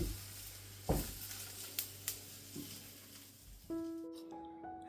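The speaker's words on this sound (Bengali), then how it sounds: "আজকে সকালবেলা ব্রেকফাস্টে হবে চাউমিন তার জন্য ক্যাপসিকাম ক্যারট এগুলো ভাজছি" Capsicum and carrot frying for chow mein at an outdoor breakfast picnic give a soft, steady sizzle with a few light clinks, and a short run of clear tones near the end.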